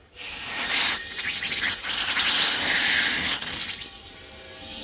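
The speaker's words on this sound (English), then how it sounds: "the best way is to fill the tank with water" Old propane tank being filled with water, giving a steady broadband rushing and splashing that stays loud throughout with shifting turbulence.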